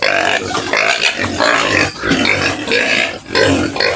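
A pig grunts and snorts repeatedly in loud, close bursts on a farm, with throaty rumbling calls in an irregular rhythm and no talk.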